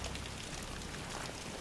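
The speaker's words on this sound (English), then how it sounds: "It's raining!" Rain in the video game Battlefield 3, a soft, steady hiss of falling drops and patter on surfaces that stays even and fairly quiet for the whole stretch, with no voices.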